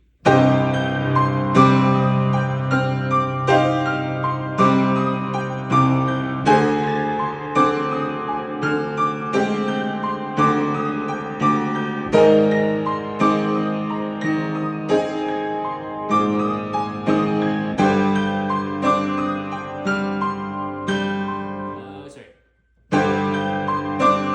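Piano playing a slow, steady passage of repeated chords and notes from an arrangement of an Attack on Titan piece, clear and close, with a brief silent break near the end before resuming.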